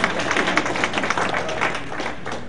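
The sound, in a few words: audience applause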